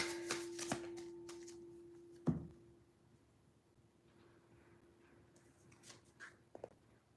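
Tarot cards being shuffled by hand: a few crisp riffling bursts up close at the start, then quieter, sparse card rustles over a steady low hum.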